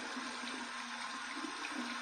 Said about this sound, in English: I'm going to run this under some cold water again.